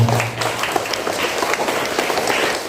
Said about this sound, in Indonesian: Saya mengucapkan tepuk tangan untuk beliau.